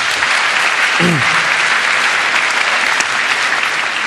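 Loud, dense applause from a large audience at the 23C3 hacker congress closing ceremony, a sustained roar of clapping that fills the clip, with a brief cheer or whistle partway through.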